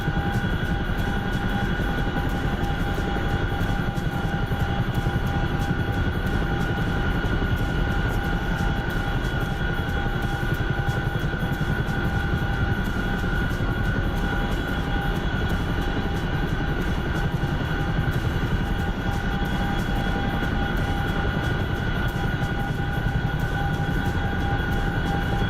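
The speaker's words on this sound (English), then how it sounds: "Tally Frogfoot circling me." An Su-25 Frogfoot jet circles in a video game, producing a loud, constant engine roar with a steady whine layered on top. The sound stays even throughout with no talking.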